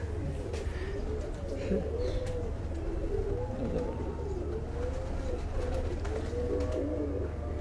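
Pigeons cooing close by in repeated soft, throaty phrases over a low background hum.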